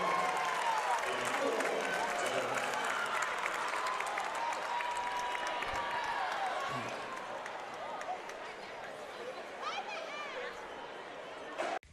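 A high school boys' basketball regional semifinal crowd claps and cheers during a timeout, a loud, dense wash of applause with crowd chatter that eases slightly toward the end.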